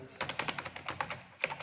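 Quick typing on a computer keyboard, a close series of crisp, uneven key clicks with short pauses and a sharper tap near the end, alone without speech.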